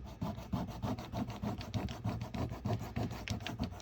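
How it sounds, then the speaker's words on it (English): A marker scrubs rapidly back and forth over thin paper, making a fast, rhythmic scratchy rasp up close, with no voices. "I'm going to be quiet for a minute so you can hear the noise my marker's making."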